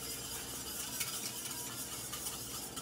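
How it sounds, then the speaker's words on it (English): Cornstarch is briskly whisked into a Thai red curry sauce for mahi mahi, making a continuous soft scraping and clinking of a whisk against the pan under faint cooking noise, with no one speaking. "briskly whisk in that cornstarch"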